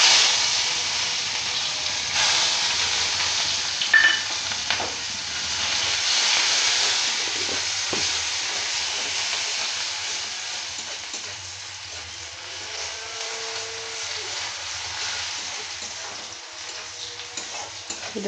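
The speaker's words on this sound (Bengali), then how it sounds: "ওই তেলের মধ্যে আমি দিয়ে দেবো একটা ছোট্ট পেঁয়াজ কুচি" Chopped onion frying in plenty of oil sizzles and hisses steadily at close range, with occasional stirring scrapes and small pops over a continuous crackle.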